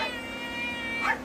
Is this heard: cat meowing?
yes